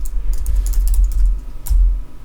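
Rapid keystrokes of code being typed on a computer keyboard, close and steady, with a few louder bursts of clicks and no talking.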